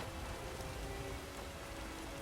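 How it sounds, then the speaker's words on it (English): Steady rain pouring down in The Witcher 3 while riding on horseback, a constant even wash of downpour heard alone throughout. "It's raining like crazy."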